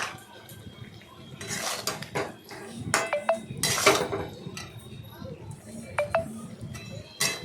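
Metal utensil knocking and scraping in a cooking pot while soybean curry is stirred, irregular clinks and clanks at close range with quieter rustling between them.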